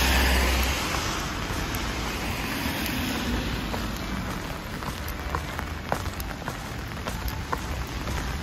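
Steady rain pattering on outdoor surfaces in the Netherlands, a dense continuous hiss with scattered individual drops striking close by, no voices.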